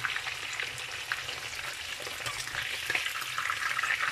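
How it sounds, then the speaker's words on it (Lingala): Pork ribs sizzle and crackle steadily in a hot pan, a dense, continuous frying hiss with small pops scattered throughout and no one talking. "viande eza kokalinga"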